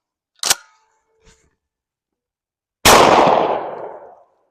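A single close, loud shotgun blast from a reloaded Remington Gun Club shell booms out and rings into a long decaying tail, preceded by a sharp mechanical click and a faint tap, with no talking.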